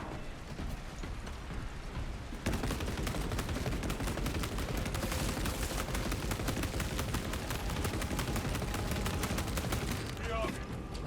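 Grenade launcher firing in Space Marine 2 during a horde fight, a dense, continuous barrage of loud blasts and impacts with steady rapid rhythm, no speech over it.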